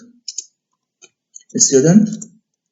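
Computer keyboard keys clicking a few times while code is typed, then a voice speaks briefly over them.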